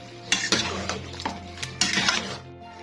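Chicken being stirred in a cooking pot while making shimla mirch gosht, with several distinct scraping and clanking hits of a utensil against the metal pot at an uneven rhythm, close and moderately loud.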